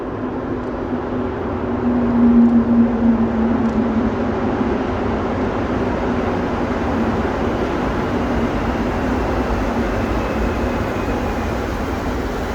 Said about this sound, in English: Here comes the train approaching now.